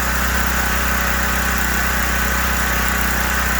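A Gentron 10,000 watt generator runs steadily and loud with a dense, constant engine drone as its fuel supply is cut off, close and alone with no talk.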